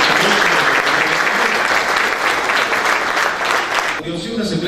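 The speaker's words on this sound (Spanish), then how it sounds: "Fuerte esos aplausos." Loud, sustained applause from an audience at an awards ceremony, dense clapping for about four seconds before it suddenly thins and drops away near the end.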